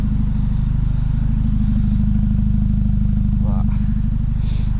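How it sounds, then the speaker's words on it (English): A supercharged R53 Mini Cooper S engine runs at a steady idle, loud and close, with a dense, even drone and a faint whine over it throughout. "I just love the noises of the supercharger."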